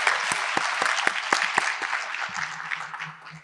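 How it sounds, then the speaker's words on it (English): An audience at a medical meeting claps continuously, with sharp individual claps standing out, fading slightly toward the end. "Let's show our appreciation with a round of applause."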